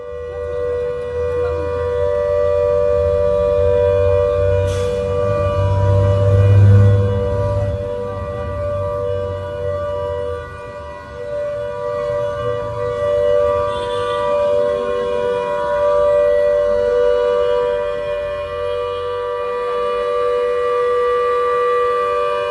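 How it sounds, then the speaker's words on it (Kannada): A long, sustained air raid siren wails steadily at a distance during a civil defense mock drill in Mumbai, its tone holding with slight swells in loudness, no voices present. "ರೈಟ್, ಈಗ ನೀವು ಕೇಳಿಸ್ಕೊಂಡ್ರಲ್ಲ, ಇದು ಸೈರನ್."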